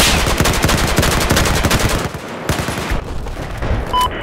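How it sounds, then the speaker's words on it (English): Rapid, loud gunfire bursts in a video game, dense volleys of shots with sharp cracks continuing steadily, ending with a brief electronic tone, no talking. "We're getting shot at by a sniper right now"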